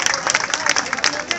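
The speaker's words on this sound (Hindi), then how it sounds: "ये युवा भविष्य अपने लिए एक बार जोरदार ताली बजा के अपना स्वागत करें" A crowd at a Teacher's Day event in a classroom claps briefly, a dense patter of many hands, fairly close, mixed with some voices.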